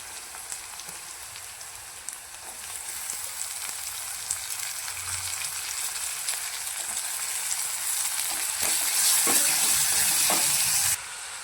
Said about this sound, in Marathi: तर यामध्ये टोमॅटो आणि कोथिंबीर